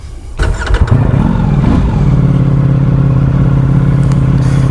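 A Ducati Panigale V4S motorcycle engine, a 2022 model, starts with a sharp burst and then settles into a loud, steady rumble that stays close and constant.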